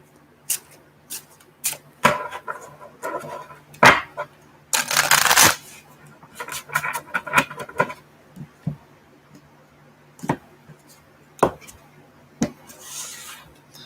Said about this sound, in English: Do some shuffling here. Gotta mix these up a bit.